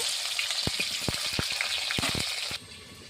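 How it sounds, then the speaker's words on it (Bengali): Potatoes frying in a pot, a bright, crackling sizzle dotted with sharp pops and spatters, close and steady before suddenly dropping to a quieter hiss near the end, no talking. "এবারে আমি আলুগুলো দিয়ে দিচ্ছি। ভেজে নেব।"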